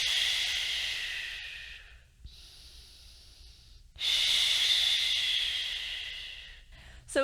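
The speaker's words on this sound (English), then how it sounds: "big inhale, exhale, release" Deep, deliberate breaths from a side-lying breathing drill: a long, airy inhale or exhale, a softer pause, then another strong, drawn-out breath, close to the mic with no talking.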